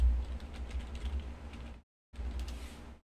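A computer keyboard clatters under fast typing, a dense run of soft close key clicks that breaks off briefly and then resumes.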